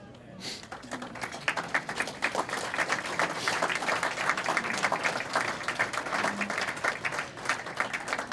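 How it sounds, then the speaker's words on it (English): An audience at a county sports Hall of Fame ceremony breaks into sustained applause for the inductees, dense steady clapping filling the room from start to finish. "please stand up so we can give you a round of applause"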